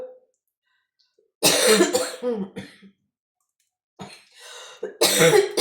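A few harsh, loud coughs close by: one cluster of bursts, a pause, then another raspy fit, with quiet stretches between.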